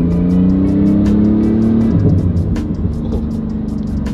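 A Porsche GT2 RS exhaust revs loudly up close, its deep, bassy engine note rising and settling, with light clicks and crackles scattered over the steady rumble.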